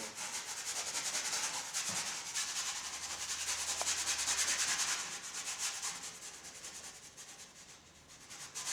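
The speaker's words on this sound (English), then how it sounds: "I could scrub out these lines and actually sort of tone my canvas" A brush scrubs paint onto a canvas to stain it, producing a steady, close, hissing rub in continuous back-and-forth strokes, with no one talking.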